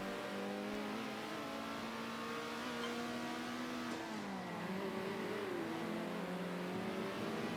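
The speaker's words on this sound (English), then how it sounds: "It's very fun to drive with clean drivers like Minardi and others as well" A race car in the Circuit Superstars racing game drives with a steady, droning engine whose pitch holds, dips and rises again as it shifts through the lap, continuous and fairly loud with no talk.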